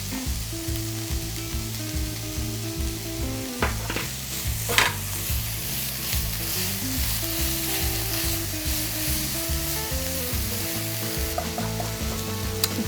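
Garlic sizzles in a hot pan for scalloped potatoes, a steady close frying hiss with stirring scrapes, heard under ongoing background music with no talking.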